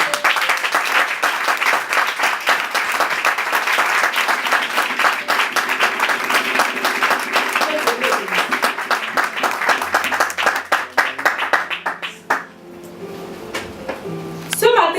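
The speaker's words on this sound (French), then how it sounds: "je voudrais qu'on applaudisse Dieu pour ça" A congregation at a business seminar held in a church setting applauds in praise of God. Dense, loud clapping fills most of the stretch and then drops away near the end, leaving quieter room sound and a low hum.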